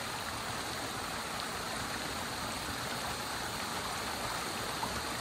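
Dense forest stream along a Ladakh road trip campsite, water rushing in a steady broadband wash, constant and fairly close, with no voices over it.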